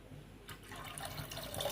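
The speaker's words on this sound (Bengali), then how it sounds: "দিয়ে দিলাম আরও 1 প্যাকেট দুধ।" Milk from a packet poured into a pot while making saffron payesh, a steady liquid pouring and splashing that grows louder, fairly close, with no talking.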